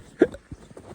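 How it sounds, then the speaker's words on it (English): A person hiccups once, a short, sharp and fairly loud burst near the start, followed by a few faint, soft vocal sounds and quiet room tone. "boy, I just got the hiccups all of a sudden."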